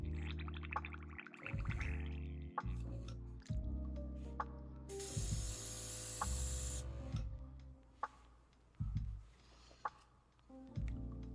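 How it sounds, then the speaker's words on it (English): An airbrush used for Warhammer 40k miniature painting is cleaned out, giving soft gurgles and drips, then a loud two-second blast of spraying hiss followed by quieter bubbling and small knocks. "we're done with the airbrushing for today, so I'm just going to give it a nice proper clean"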